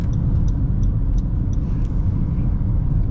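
Honda CR-V cruising on a busy expressway, a loud steady low road and engine rumble from inside the cabin with a faint repeating high tone above it.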